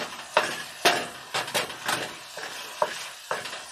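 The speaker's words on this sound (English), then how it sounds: "We're just going to mix this all up" Spicy sweet sloppy joe mixture stirred in a pan, a series of distinct scraping, sizzling strokes roughly every half second over a soft frying background, close and fairly loud.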